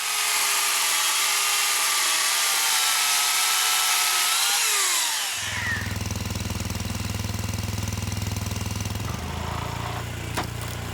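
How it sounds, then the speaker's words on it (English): A chainsaw cuts through wood with a loud, continuous buzzing roar whose pitch sags as the chain bites, then gives way midway to a lower, steady mechanical drone. "handle wood cutting with ease. Designed specifically for quick, convenient use with a chainsaw"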